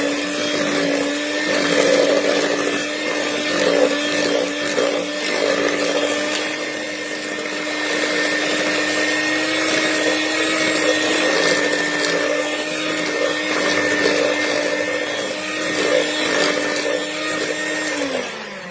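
Electric mixer churning flour and milk mixture for a South African milk tart, a loud steady whirring drone that runs unbroken for the whole stretch before winding down at the end.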